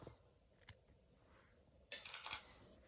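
Scissors snip crochet yarn at the end of a heart granny square, with a faint click and then a sharper close cut and a second snip, quiet and nearby with no talk.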